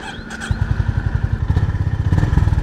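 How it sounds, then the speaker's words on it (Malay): A motorcycle with low mileage is started, its engine catching after a brief crank and settling into a loud, close, lumpy rhythmic idle with steady pulsing beats. "Start engine lah."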